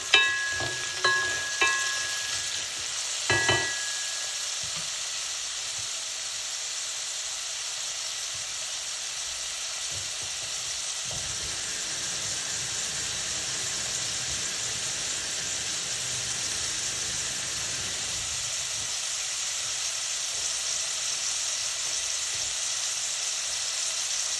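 A one-pot seafood soup with white onion stirred in a pot, a few spoon clanks against the metal at first, then a continuous, even sizzle and hiss.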